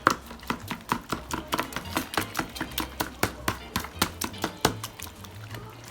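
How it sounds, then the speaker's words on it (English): A spoon mashes cooked vegetables for Antiguan pepperpot in a pot, with a quick run of sharp, evenly spaced taps and squishes close by, repeating steadily with no voices. "all I'm going to be doing is just mashing them with my spoon"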